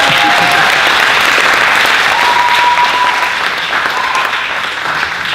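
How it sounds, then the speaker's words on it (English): Sustained applause from a crowd at a team rally, dense and steady throughout, loud and close, with a brief whistle-like tone rising above it. "A round of applause for y'all."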